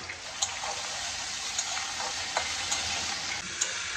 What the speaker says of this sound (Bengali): বাবা কি ফাটছে গো মাছগুলো